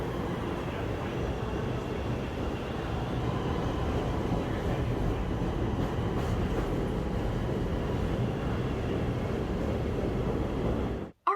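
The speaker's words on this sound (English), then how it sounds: "I kind of showed the train passing by" A train rolls past in Chicago with a steady, loud rumble and clatter that holds throughout, then cuts off abruptly at the end.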